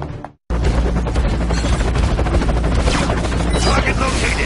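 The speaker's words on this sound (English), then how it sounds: "Find some cover till the shooting stops." Dense, continuous gunfire and combat noise from the Transformers Prime Dark Envoy video game, loud and sustained after a brief drop at the start, with explosive booms mixed into the barrage.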